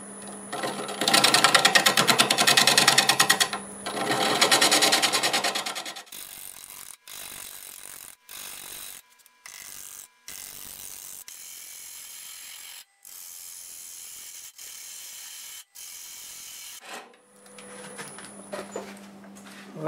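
A wood lathe spins a dry flame maple burl at nearly 600 RPM while a gouge flattens the face, giving a rough, scraping, ratcheting rasp that comes in loud bursts and then drops to quieter, intermittent cuts.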